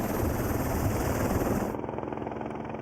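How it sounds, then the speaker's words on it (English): Mountain rescue helicopter with a loud, steady rotor chop filling the clip, holding close and even before the upper hiss cuts away partway through. "When the helicopter arrived, I thought, good."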